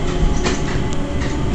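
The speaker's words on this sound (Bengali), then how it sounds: "আসছে স্কাই ট্রেন।" The Skytrain arriving at Changi Airport near the Jewel and its Rain Vortex waterfall: a loud, steady rumble of the train rolling along its track, with faint clicks and brief squeals over the roar and no voices.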